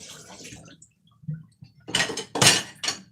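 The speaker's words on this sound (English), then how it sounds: "Had to wash a couple of dishes." Dishes being washed at a sink: soft water and handling noises, then a quick series of sharp clinks and clatters of pots, plates and cutlery close by.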